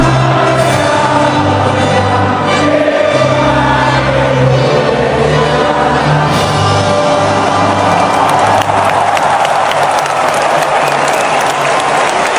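A large audience applauds loudly and steadily, a thick continuous wash of clapping with crowd noise and faint cheering throughout.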